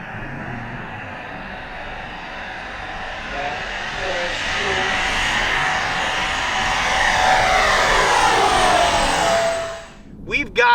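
An Arrows RC MiG-29 model jet on a 6s battery flies past with a loud, sustained whine that swells and then fades, with voices speaking briefly near the end.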